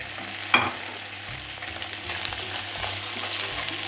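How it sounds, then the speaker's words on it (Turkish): Chicken pieces sizzle steadily in a hot pan, with a sharp clatter near the start and a constant crackling hiss throughout. "Artalı önlü 3-4 dakika tavuklarımızı kızartıyoruz."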